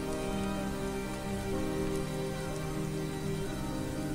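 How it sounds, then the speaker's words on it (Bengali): Steady rain falls and patters in a pine forest at Dow Hill, Darjeeling, a dense, even hiss with no voices. "এখন বৃষ্টি পড়ছে"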